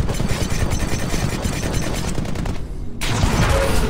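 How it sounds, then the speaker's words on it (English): Dense, rapid gunfire bursts from a Titan's Vortex Shield on Xbox, loud and continuous with a brief dip before the firing resumes. "This weapon absorbs incoming ballistics for a limited time, then refires them"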